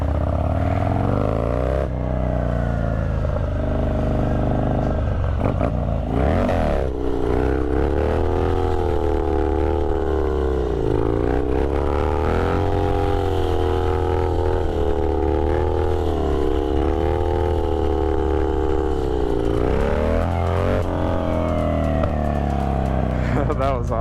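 A Harley Dyna motorcycle engine revving hard during a wheelie, a loud close rumbling roar rising and falling in pitch, with wind noise and a rider's voice over it.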